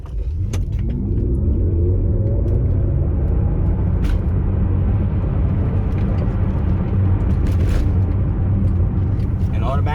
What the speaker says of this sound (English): the engine noise is artificial, and it becomes stronger when you're in strong recuperation